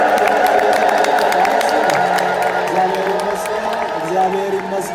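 A crowd ululates at the Meskel Demera bonfire as priests bless it, a loud, sustained wave of trilling voices mixed with general crowd noise and talk.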